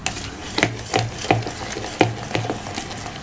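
Methi breakfast batter is stirred briskly in a bowl, giving a run of wet, scraping strokes about twice a second that are close and moderately loud, with no talking over them.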